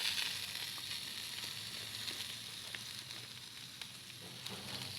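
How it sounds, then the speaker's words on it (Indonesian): Satay meat for Sate Padang sizzles steadily on the heat as a butter-mixed sautéed spice sauce is splashed over it, a continuous close crackle with occasional sharper pops and no talking. "Sekarang kita ciprat dengan ini tadi, dengan tumisan yang sudah dicampur mentega tadi."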